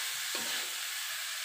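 Fried tempeh and tofu are stirred in a sweet, spicy seasoning, giving a brief, steady hissing sizzle from the pan.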